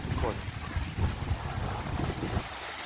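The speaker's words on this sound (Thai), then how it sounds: "ดูคลื่นตอนกลางคืนกันนะทุกคน" Ocean surf washing onto a beach at night beside a villa-style resort, a steady low rushing roar with wind buffeting the microphone and faint voices in the background.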